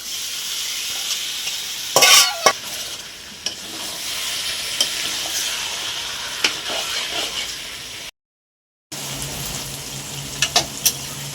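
Yogurt-marinated chicken sizzles and fries in hot oil with masala in a kadai, a steady hiss broken by a few sharp spatters and stirring scrapes, with a brief gap of silence near the end.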